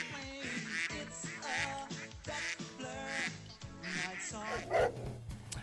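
Ducks quack repeatedly in a steady, nasal series, loud and close, layered over busy background music with a brief louder burst near the end.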